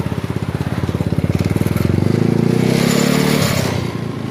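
A Yamaha Mio Sporty scooter engine runs after a no-start repair, firing with a fast, steady putter nearby and revving up slightly before easing back.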